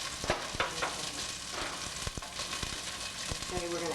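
Chopped onion frying in a pan in a home kitchen, a steady close hiss and crackle broken by several sharp stirring knocks against the pan.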